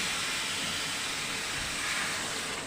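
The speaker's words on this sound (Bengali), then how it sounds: "এখানে আমি বেশ কিছুটা পরিমাণে জল দিয়ে দিচ্ছি।" Water poured into a hot pan of spice-fried potatoes for a fish curry with potato and eggplant produces a loud, steady sizzling hiss that fills the whole stretch without a break, with no talking.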